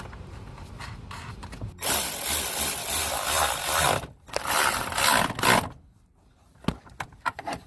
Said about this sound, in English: Let's put the bolts back on, the 10s.